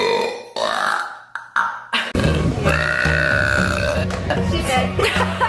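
A woman burps repeatedly, with several short croaky burps followed by a long drawn-out rumbling one, loud and close with grunting tones.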